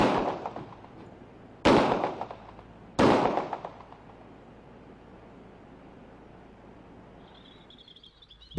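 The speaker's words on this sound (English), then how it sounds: "See for yourself as the officer fires the weapon." A police officer fires a .40 caliber handgun at a piece of metal outdoors, producing two loud sharp reports about a second apart, each trailing into a long echoing decay across open ground, with faint bird chirps afterward.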